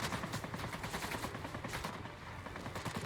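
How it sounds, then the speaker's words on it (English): Rapid machine-gun fire in a War Thunder air battle flying the Ki-162-III, dense rattling bursts repeating loudly and continuously with no pause across the few seconds. "everybody's shooting at you"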